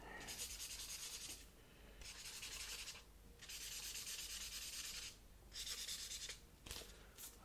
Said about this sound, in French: Je suis en train de dessiner ta tenue.